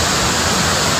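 A brief, unbroken roar of cascading water from the Rautwadi falls in Dajipur, loud and near, filling the whole moment.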